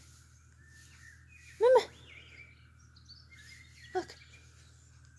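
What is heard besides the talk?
birds chirping in a YouTube video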